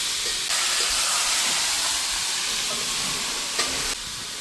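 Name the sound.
stirring country chicken meat frying in a pan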